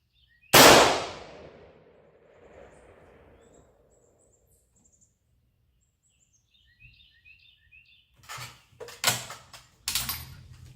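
A single loud, close rifle shot from a Jungle Carbine scout rifle fired at a 25-yard target on a farm cracks and then rings out in a decaying echo. Faint birdsong follows, then several sharp handling clatters near the end.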